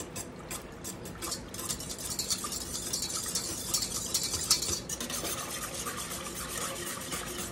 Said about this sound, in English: I'm going to stir this up a little bit. Let me get this stirred.